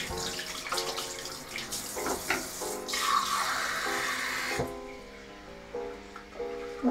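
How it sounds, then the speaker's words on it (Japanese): Running tap water splashes steadily over hands being washed at a bathroom sink, a continuous close wash with soft shifts as the hands move, while music plays underneath throughout. "まずは毎日欠かせない手洗いうがいをしていきます"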